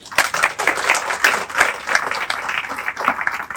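Audience clapping at a Jain monk's discourse gathering in Viman Nagar, Pune, a loose crowd patter with uneven swells, moderately close.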